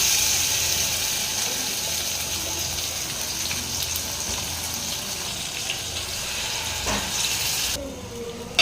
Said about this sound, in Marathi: वाटण छान परतून घेऊ